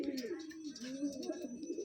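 A Madrasi pigeon coos nearby in a series of soft, rolling low calls that repeat steadily across the short stretch.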